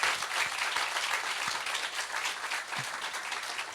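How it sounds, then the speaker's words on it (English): Faint, distant applause from an audience, a steady wash of many hands clapping for a few seconds with no pause. "Applause, eh? Applause."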